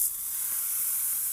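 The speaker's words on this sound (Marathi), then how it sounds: "फोडणी घालून घेऊया" Hot oil tempering with curry leaves and asafoetida hisses and sizzles as it is poured over chutney, a close, steady frying crackle heard alone for a brief moment.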